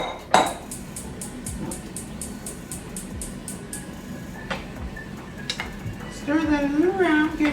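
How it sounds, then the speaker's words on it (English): Zucchini noodles being stirred in olive oil in a pan, with light, repeated utensil clicks and scrapes against the metal. A voice speaks near the end. "Stir that a little around, get it all over,"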